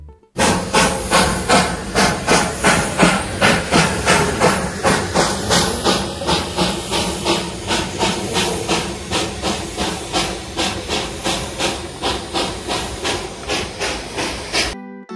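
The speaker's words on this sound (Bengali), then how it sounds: "বাতাসিয়া লুপে প্রবেশ করার সাথে সাথেই টয় ট্রেনের দেখা মিলল।" The Darjeeling toy train at Batasia Loop chuffs in a loud, steady rhythm of hissing steam beats that repeat evenly throughout, with no voices.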